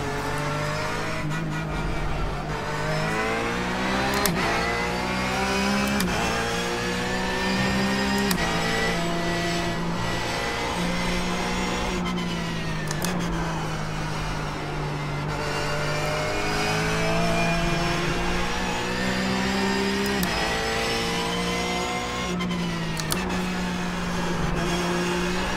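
A Porsche Cup race car engine in iRacing at Circuit de la Sarthe screams through repeated upshifts, then holds near the top of the rev range and bounces against the rev limiter, loud and continuous throughout.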